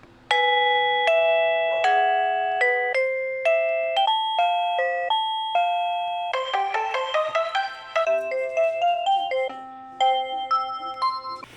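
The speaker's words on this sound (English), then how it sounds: "we have the plug-in chime" A Reolink plug-in doorbell chime plays a series of electronic melody tones, bright clear notes ringing in sequence, loud and close, each decaying before the next, cycling through several tunes.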